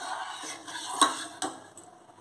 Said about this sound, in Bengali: ডালগুলো দিয়ে দিচ্ছি, একটু নেড়ে নিই।